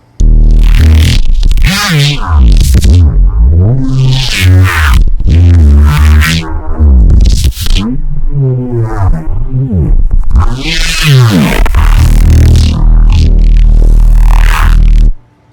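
A growling neuro bass synth patch built in Logic Pro for iPad, with its filter sweeping open and closed, producing loud, throbbing, vowel-like wobbles in rhythmic bursts for about fifteen seconds.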